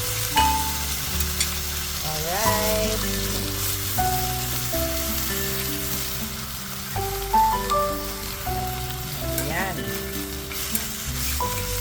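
Steady sizzling and bubbling of water boiling in an oil-free hot pan for pancit-style Japanese ramen, fairly close, with music playing over it and a voice speaking briefly.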